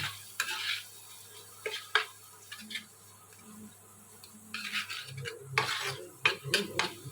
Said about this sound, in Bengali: লাল মরিচের গুঁড়া দিয়ে মশলাটাকে ভালোভাবে নাড়াচাড়া করে নেব